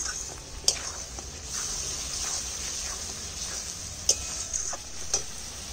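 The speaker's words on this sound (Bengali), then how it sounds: "একটু অল্প করে জল দিয়ে কষিয়ে নেব" Spiced masala of turmeric, chilli powder and salt frying with a splash of water in a pan, a thin continuous sizzle with occasional sharp scrapes and clicks of a stirring spoon.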